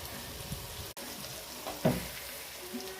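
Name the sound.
curry leaves and green chillies frying in oil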